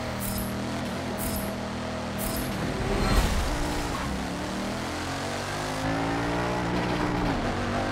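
A race car engine in the Forza 7 video game revs and drones at Daytona, a steady high-pitched roar that rises and shifts in pitch, loud and continuous throughout.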